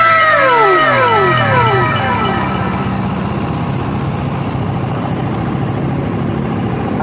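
Car engine revving after a camshaft replacement for a ticking-noise fault, with steady loud running and falling harmonic sweeps as the revs drop early on, then settling into an even idle-like hum; no talk.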